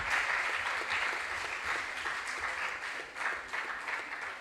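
Steady audience applause fills a junior science and maths quiz regional qualifier in the Ashanti Region, with sustained, dense clapping from a crowd for the full few seconds and no talk over it.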